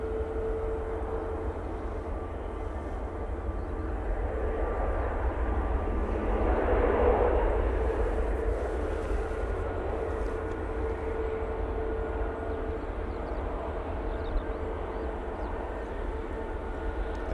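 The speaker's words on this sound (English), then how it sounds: "Aegean A380 Neo now touching down from Athens." An Aegean Airlines A380 Neo airliner touches down at Manchester Airport, a distant broad engine roar that swells briefly mid-way over steady low outdoor rumble, with no talking.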